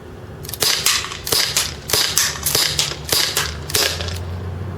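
A TSD M1911 airsoft pistol, tuned past 450 FPS, fires BBs in a quick run of about ten sharp, snappy cracks at a steady rhythm, each with a short metallic slap, over a low outdoor background.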